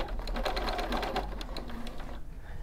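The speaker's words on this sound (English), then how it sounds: "I'm going to change onto a straight stitch and I'm just going to go around the edges just to give the edges a bit of a neaten up" A sewing machine runs a straight stitch around the edges of a bathrobe, a steady close mechanical whir with rapid needle ticking that eases off near the end.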